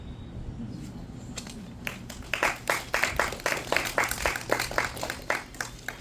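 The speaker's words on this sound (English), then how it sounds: "Thank you for clapping" An audience at a poetry reading breaks into applause after a poem, starting with a few scattered claps and swelling into a brief, steady round of clapping that sounds fairly close.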